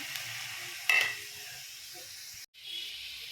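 Onion and tomato being sautéed together in a pan give a soft, steady sizzle, broken by a brief louder stir near the start and a short cut-out near the end.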